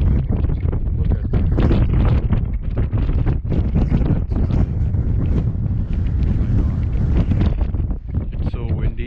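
Strong wind on a mountain hike batters the microphone in loud, continuous gusts and buffeting, with a person speaking briefly underneath.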